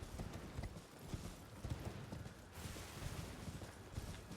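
Rhythmic hoof clip-clop of a horse galloping in the video game Elden Ring, steady and fairly quiet, running alone without talk.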